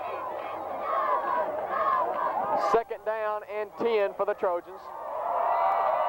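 Crowd at a 1995 high school football game between Bruce and Water Valley roars steadily under a play-by-play announcer, swelling loud and continuous at the start and end with a brief dip while he talks.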